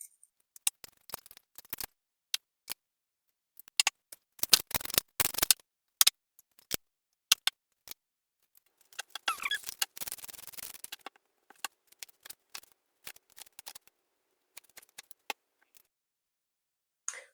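Tarot cards are shuffled and drawn in a run of sharp, close snaps and flicks, scattered irregularly with short quiet gaps between them and a longer rustling burst partway through. No one speaks.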